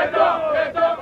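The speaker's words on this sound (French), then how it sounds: "Une foule compacte qui a même perturbé la circulation dans la ville a débuté sa marche au Palais du Peuple" A large, compact crowd marching through a city from the Palais du Peuple, a dense swell of many voices chanting and shouting together, loud and close, briefly dipping before rising again.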